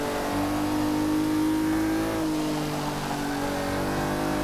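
1979 Datsun race car engine in Forza 6 holds a steady high-rpm drone, loud and continuous with a slight pitch dip midway as revs ease, no voices over it.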